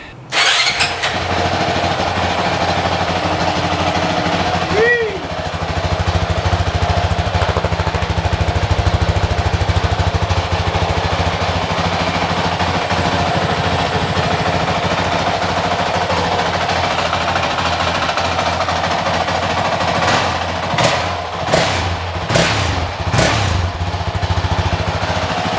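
A 2023 Honda CRF450X dirt bike engine cranks and catches, then runs loud and close at a steady idle with a rough, throbbing note, followed by a few sharp revs or blips near the end.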